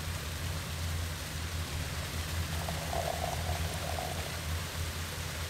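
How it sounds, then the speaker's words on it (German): Hot water leaking out in the video game The Fall, a steady rushing hiss like rain or pouring water, unbroken and even for several seconds under a low droning background. "Hier ist wieder mal Wasser ausgetreten. Heißes Wasser."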